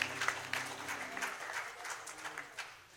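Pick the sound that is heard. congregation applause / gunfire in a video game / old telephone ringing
congregation applause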